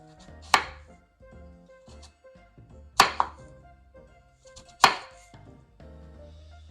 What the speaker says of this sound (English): And we're just going to cut them up.